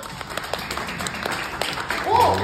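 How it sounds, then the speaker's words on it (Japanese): Audience at a Kumamon Square stage show with Kumamon clapping in a short burst, scattered handclaps building slightly toward the end, with a voice speaking over them. "拍手お願いします。"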